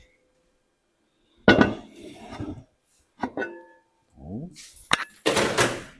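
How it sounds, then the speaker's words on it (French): Pumpkins filled with pumpkin cream come out of an oven in several separate bursts of clinking dishes, clattering pans and a door thunk, with quiet gaps between them. A person briefly exclaims. "on sort les citrouilles du four"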